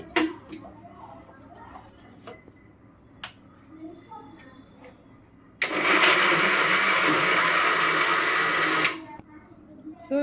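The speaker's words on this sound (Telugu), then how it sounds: "ఈ గుడ్లని నేను ఒక ఒక ఒకటి రెండు రౌండ్లు అంటే బాగా మెత్తగా కాకుండా కచ్చపచ్చిగా కొంచెం మిక్సీ పట్టేస్తానండి" After some quiet clatter, a mixer grinder roars on loudly for about three seconds blending eggs, a dense whirring blast, then cuts off abruptly.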